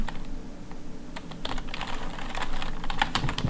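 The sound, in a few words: typing on a computer keyboard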